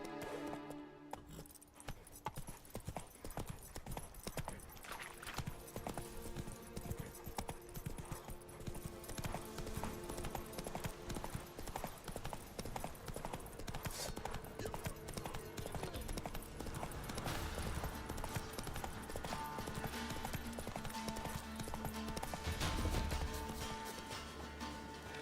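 In The Witcher 3, a horse gallops with steady, rapid hoofbeats that continue throughout, layered with game ambience and brief snorts.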